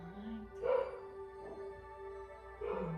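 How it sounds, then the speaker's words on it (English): A dog gives a few soft yips and whimpering whines against a low steady hum indoors, the cries rising in short bursts spaced about a second apart. "my doggy also want to participate"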